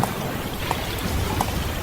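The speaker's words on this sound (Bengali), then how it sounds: "বাতাস আর বৃষ্টির দাপটও যেন হয়ে গেল দ্বিগুণ" Steady, dense rain hissing continuously with a low rumbling wash of wind underneath, a few faint drip accents, no voices.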